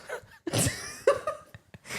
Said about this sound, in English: Was that a snort as well